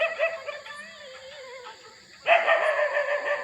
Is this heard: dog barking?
yes